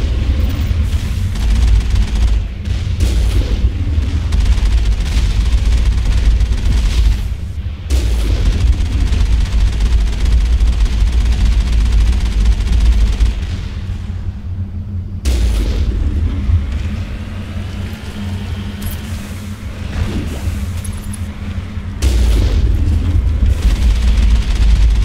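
Loud, sustained booming from rocket explosions in the video game Mass Effect, heavy rumbling blasts with a couple of short breaks, dense and close throughout.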